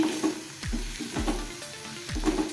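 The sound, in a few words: sautéing fresh turmeric in ghee over low flame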